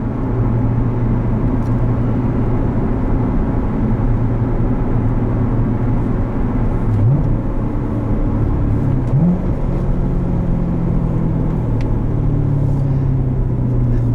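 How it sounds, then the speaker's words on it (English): A manual 2016 Chevrolet Corvette Z51 accelerates at full throttle on a public road, a loud, steady engine drone heard from inside the cabin, its pitch climbing and dropping with gear changes through the whole run. "That was probably the last full throttle acceleration"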